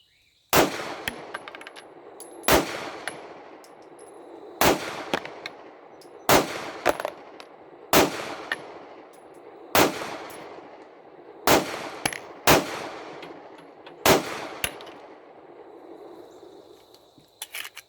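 A 9mm Rock Island GI 1911 pistol fires a full magazine at an outdoor range. About ten sharp, loud shots come at a steady, unhurried pace, each with a short ringing tail.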